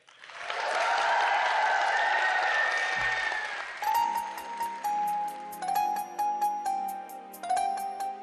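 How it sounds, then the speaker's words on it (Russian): Audience applause for a young girl making her first steps as a singer at a televised children's vocal contest, a loud dense burst that fades as a bright tinkling piano-like tune begins and carries on alone. "Поддержим Улю громкими аплодисментами и пожелаем творческой удачи."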